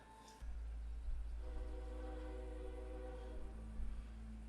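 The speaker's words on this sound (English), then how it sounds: "Is that a train?" A distant train horn sounds over a low rumble of rail noise in a Walking Dead scene, holding a long sustained tone that fades slowly with no talking.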